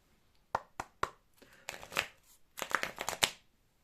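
Business Tarot cards being shuffled and drawn by hand, soft crisp card flicks and riffles in uneven bursts, close and quiet with no talk.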